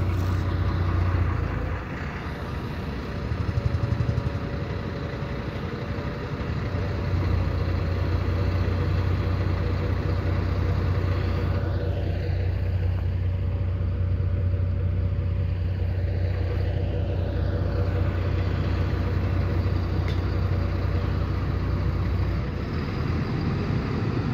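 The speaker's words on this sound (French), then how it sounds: "le 414 vient justement de démarrer son moteur" A Stadler-built LEB train 414 of the TL Lausanne idles in a snowy depot just after its engine starts, a steady low droning hum held throughout with faint wind noise over the microphone.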